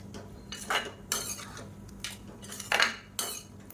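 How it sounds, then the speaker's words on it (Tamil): Metal utensil scraping and clinking in a pan while soya chunks and egg are stirred on high heat, in several short bursts of scraping separated by brief pauses, close and fairly quiet. "தேவையான அளவுக்கு உப்பையும் சேர்த்துட்டு நல்லா கிளறி விட்டுக்கலாம்"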